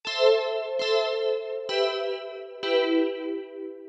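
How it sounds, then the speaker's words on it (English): Bell Pad preset from the X-Band synth in Pro Tools, played for a type beat: four evenly spaced bell-like chords with sharp, struck attacks and shimmering, sustained tails, loud and clear with no voices. "This sound is called Bell Pad."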